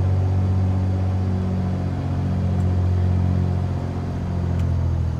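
Piper Turbo Arrow light aircraft engine idling and taxiing in Flight Simulator 2020, a steady low droning hum with strong bass tones that holds nearly constant throughout, with no talk.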